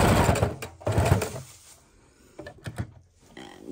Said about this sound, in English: Sewing down one side, needle down, pivot, straight down the short side, needle down, pivot, straight down the other side.